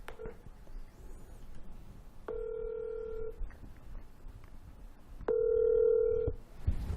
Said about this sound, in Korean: 전화를 연결을 좀 해드려야 될 것 같아요